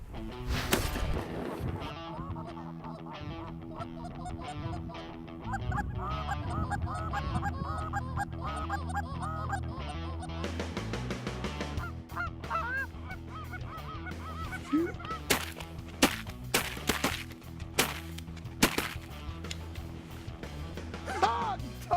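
A flock of geese honks loudly and continuously during a goose hunt over decoys, many calls overlapping, with sharper close honks and clatters growing frequent toward the end.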